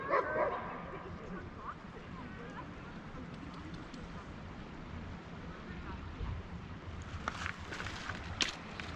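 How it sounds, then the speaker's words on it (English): Dogs playing in a river at a park near downtown Leavenworth, Washington, yip and bark faintly at a distance amid quiet outdoor ambience, with people talking softly. "And dogs playing in the water."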